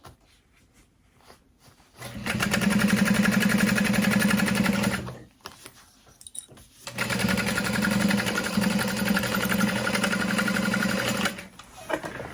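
A sewing machine stitches through backpack fabric in two loud, steady bursts of rapid mechanical whirring, separated by a short pause with small handling clicks, heard up close without talk.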